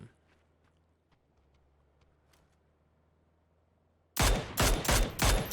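Gunfire in PUBG during a pro scrim match, near-silence suddenly broken by a loud burst of rapid shots in several bunched volleys at the end.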